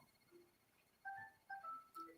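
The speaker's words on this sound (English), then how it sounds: "a phone alarm." A new mobile phone alarm goes off faintly in a radio studio, a few short melodic electronic beeps in an uneven pattern, quiet and somewhat distant.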